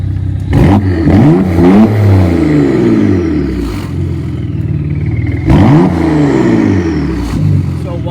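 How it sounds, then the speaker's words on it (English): A Porsche Macan Turbo facelift with a swapped exhaust revs in neutral, two sharp throttle blips rising and falling back to a rumbling idle, loud and close. "I want to see her face when I rev it a little bit."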